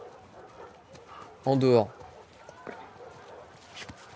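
A dog in The Last of Us Part II gives a short burst of barking and whimpering, loud and close for about half a second, with a quieter yelp afterward, while someone talks over the game sound.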